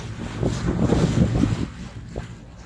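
A sailboat under way off Mallorca and Ibiza in a beam swell, with steady wind rushing over the microphone and water swishing along the hull in uneven surges.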